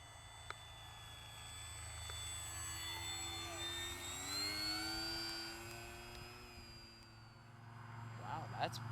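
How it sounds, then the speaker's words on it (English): A Hobby King Durafly Tundra V2 1300mm RC plane makes a slow flyby, its electric motor whine rising and falling in pitch as it passes at moderate distance over outdoor background noise. "Let's do a nice slow flyby."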